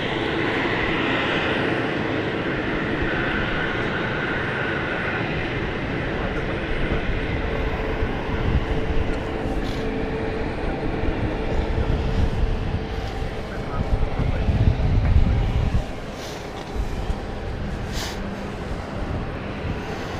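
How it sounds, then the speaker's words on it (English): Emirates airliner coming in to land at London City airport, a rising jet roar building to a peak then dropping off, heard over a steady background rumble. "There's another one though. Emirates coming in."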